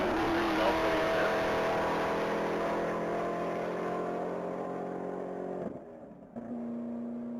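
A 2024 Hennessy Camaro ZL1 roars at full throttle on a one-mile top speed run at the Texas Mile, a loud, sustained high-revving engine drone with a sudden drop near the end as the car lifts off and coasts.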